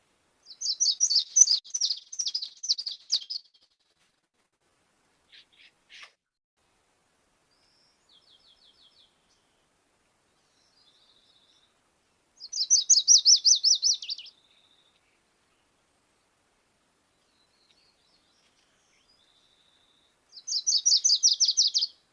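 A warbler sings in southwest Idaho, its high, clear phrases of evenly spaced introductory notes running into faster trills and repeating in three separate bursts with long quiet gaps between, alone and moderately close.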